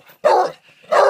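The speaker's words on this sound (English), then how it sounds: "I'll just show you this dog." A guard dog at a house being cleared barks twice, two loud, close, sharp barks separated by a short pause.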